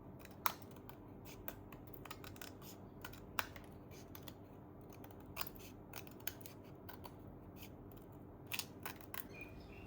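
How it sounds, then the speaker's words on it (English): Scissors snip through a tightly woven bamboo bookmark in a quiet room, a series of sharp, crisp clicks spaced irregularly across the clip, close and fairly faint. "You're just going to make sure you tighten it back and then cut it through."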